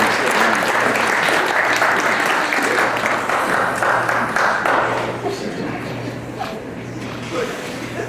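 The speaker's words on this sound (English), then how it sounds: "Give this lady a round of applause" Audience at a Christmas hypnosis show giving a volunteer a round of applause, dense sustained clapping from a room full of people that gradually thins and softens after a few seconds.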